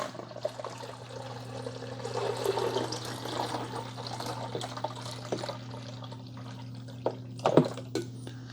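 Fresh water is poured into the reservoir of a Gourmia 12-cup grind-and-brew coffee maker, a steady close-up pour with a low mechanical hum beneath and a brief louder splash near the end.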